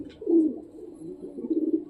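A wild pigeon from a barn loft coos in a low, soft, rolling call, close and fairly quiet, with two swelling phrases and no talking.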